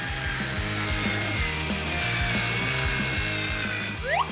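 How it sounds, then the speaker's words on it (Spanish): Tooth cavities being drilled out during a cartoon makeover, a steady mechanical whirring buzz that pulses in a repeating rhythm and ends in a rising squeal. "Estoy cortando las caries."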